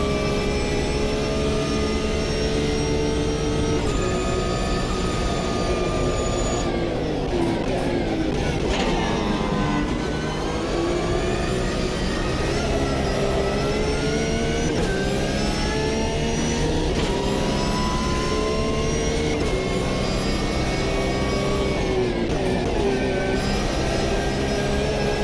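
A Porsche race car engine in the racing game Automobilista 2, run on wet tyres, howls loud and continuous, its pitch climbing and dropping with each gear shift and corner.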